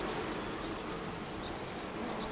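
Honeybees hum in a steady, dense buzz close by at an opened nucleus hive made from a split or swarm, continuous and even with no other sounds.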